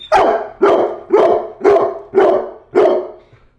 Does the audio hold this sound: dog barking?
yes